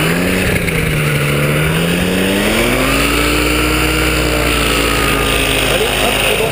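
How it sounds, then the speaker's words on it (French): A paramotor engine restarts and runs loudly and steadily at an aerodrome, its drone shifting slightly in pitch as it revs, dominating the whole stretch. "tu peux remettre en route ton moteur"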